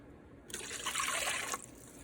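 Water poured from a cup into a pot holding rice for cooking, a soft trickling splash lasting about a second, faint and close, with quiet before and after.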